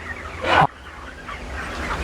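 A broiler chicken on a farm gives a single short, loud call, followed by a quieter stretch of background farm ambience.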